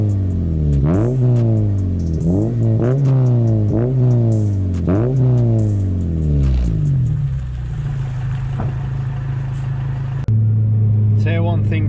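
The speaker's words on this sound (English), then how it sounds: "I forgot how good it was to hear VTEC over your exhaust." A car with a VTEC engine and a midbox fitted to its exhaust revs hard over and over, each loud rising pull falling away before the next, then settles to a steady idle; a voice talks over it.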